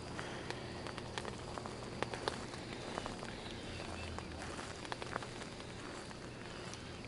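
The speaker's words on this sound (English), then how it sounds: "It was probably the rain on the roof is what I heard." Rain patters on a roof in the Phasmophobia horror game, a quiet, steady hiss scattered with small tapping drops and occasional sharper ticks.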